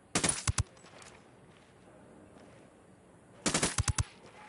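Two loud, close bursts of rapid automatic fire from a turret-mounted weapon in the Ghost Recon Wildlands shooter game, one at the start and one near the end, with a quiet gap between them.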